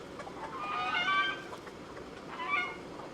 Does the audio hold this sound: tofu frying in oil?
no